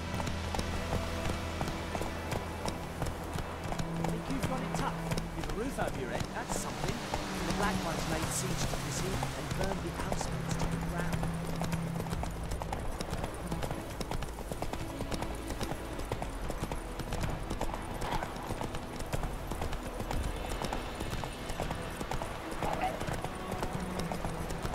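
Horse hooves gallop in a rapid clip-clop rhythm across The Witcher 3 game world, steady and close throughout, mixed with game sounds and voices speaking over the ride.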